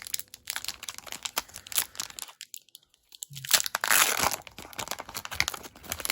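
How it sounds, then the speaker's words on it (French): Foil wrapper of a Pokémon trading card booster pack crinkling and tearing open up close, bursts of crackly rustling with a short pause midway, no voices. "Et on va ouvrir l'avant-dernier booster."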